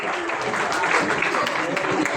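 Steady broadband clapping from a ceremony audience at a Vishva Hindu Parishad bhumi pooja event, filling the whole stretch evenly at moderate distance with a faint voice mixed in.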